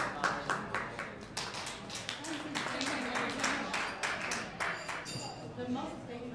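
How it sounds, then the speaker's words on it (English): An audience at an investment forum in Manhattan claps in a scattered, fairly quiet round of applause. Talking carries on alongside it. "Let's give Angie Wong another big round of applause"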